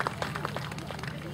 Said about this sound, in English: A round of applause to our riders